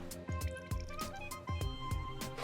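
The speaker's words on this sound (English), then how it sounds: "now you're gonna squeeze your lime inside" A whole lime is squeezed for juice, giving a series of wet squishes and drips in an uneven rhythm, close and clear, over a backdrop of soft music.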